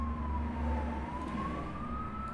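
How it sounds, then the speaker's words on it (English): An AI-generated emergency siren in a city ambience, a steady, slowly rising wail over a continuous rumble of traffic, moderately distant and unbroken throughout. "Sirens if I want sirens."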